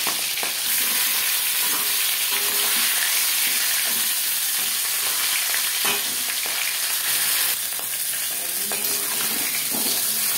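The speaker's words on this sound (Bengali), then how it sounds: "তেল গরম হয়ে গেছে, এবার দিয়ে দেব ম্যারিনেট করে রাখা মাছের মাথা" A marinated fish head fries in hot refined oil for a Bengali muri ghonto, giving a steady, loud, close sizzle and crackle that runs the whole time without talk.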